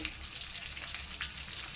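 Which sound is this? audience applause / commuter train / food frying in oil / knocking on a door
food frying in oil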